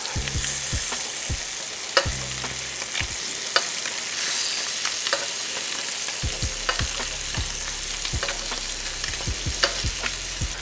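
Scallops sizzle in melted butter in a skillet, a steady dense frying hiss with occasional sharp clinks and pops throughout; no voices.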